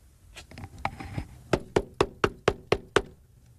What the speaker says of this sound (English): She just locked the door.